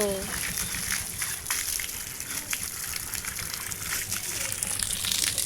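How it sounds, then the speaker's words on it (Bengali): Water gushes and splashes continuously as Liza bathes and jumps in, a dense, close wash of sloshing with a speaking voice over it. "দেখো তোমরা সবাই, লিজা এখন স্নান করছে। এই দেখো লিজা জাম্প করলো।"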